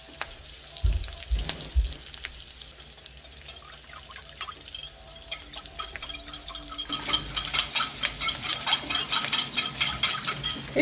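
Soya manchurian sauce with sugar is stirred and whisked in a pan, with a continuous bubbling sizzle that grows louder and busier toward the end, close up and without talk.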